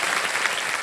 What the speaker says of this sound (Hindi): तालियां बज जाए हमारे कर्नल वेम्बू शंकर।